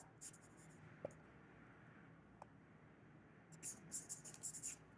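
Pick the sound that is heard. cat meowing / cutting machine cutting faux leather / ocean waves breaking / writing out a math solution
writing out a math solution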